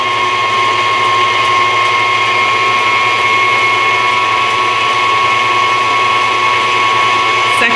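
An electric hand mixer beating an egg into cake batter, a steady loud whirring drone with a constant motor whine and no breaks, heard alone without talk.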